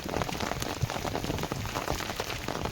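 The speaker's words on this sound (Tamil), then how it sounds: "மழை பெய்யறத நின்று பார்த்து ரசிக்க ஆரம்பித்தாச்சு" Steady rain patters densely on outdoor surfaces by a rooftop garden, a continuous close hiss of drops with scattered sharper splashes and no voices.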